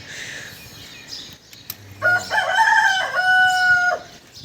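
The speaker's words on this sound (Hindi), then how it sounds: "मुर्गे ने भी बांगना शुरू कर दिया।" A rooster crows nearby, a long strained call rising and holding before trailing off, over quiet farmyard background.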